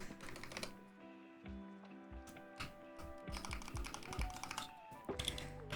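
An NK87 aluminum keyboard with Durock Lavender switches is typed on at a quick, uneven pace, producing close, crisp, clacky keystrokes with occasional heavier thocks from larger keys. Faint music hums underneath.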